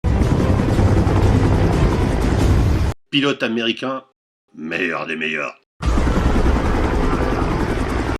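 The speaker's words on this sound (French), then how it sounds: "Hélicoptère." Helicopter rotor and engine roar, loud and steady, fills the opening three seconds, stops while someone speaks in French, then returns at full strength after the talk.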